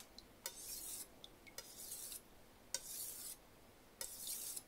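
A knife blade is drawn across a sharpening stone to raise a burr, four separate gritty strokes at a slow, even pace, close and fairly quiet, with no voices.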